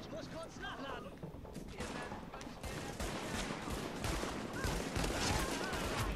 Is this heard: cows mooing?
no